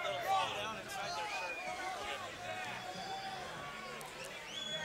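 Boxing crowd at a Nevada fight between Michael Simms and Marcelino Novaes, a dense, steady babble of many voices reacting with disapproval throughout, with a commentator talking over the din.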